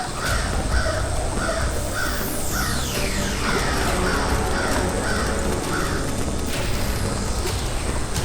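A crow caws in a regular series of harsh calls, about one per half second, over a constant hiss of background noise with occasional sweeping whooshes.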